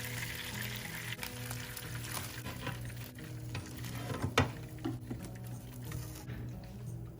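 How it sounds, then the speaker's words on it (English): Chicken thighs in an air fryer being turned over: a soft sizzle over a steady fan hum, with a few brief clicks and clatters as the pieces are handled. "So now we're gonna turn them over."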